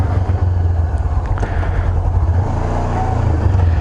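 A Honda CB500F motorcycle is pushed hard in second gear on a closed private lot during a wheelie attempt, its engine a loud, close, sustained low roar throughout.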